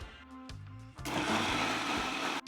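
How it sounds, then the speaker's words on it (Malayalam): An electric mixer blends cake batter with cardamom seeds. It starts with short pulses, then whirs up loudly near one second and runs steadily before cutting off just before the end. "ഇതിനെ എല്ലാം കൂടി ഒന്ന് അടിച്ചെടുക്കാം"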